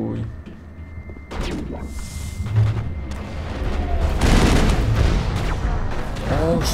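Rockets fire and explode during combat in the Mass Effect video game, with a run of booms and crackling blasts building in loudness and a dense rumble through the middle, and sharp sci-fi effects near the end.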